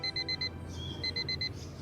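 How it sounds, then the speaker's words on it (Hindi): An alarm clock rings in quick bursts of four sharp, high electronic beeps, with a short pause between the groups. It sounds close and clear against quiet room noise. "अलार्म बजा"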